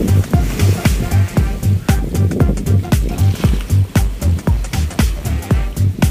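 Sea waves at high tide along the shore at Sembawang, arriving in a steady loud rhythm of repeated close splashes and wash, with a low pulsing rumble running underneath.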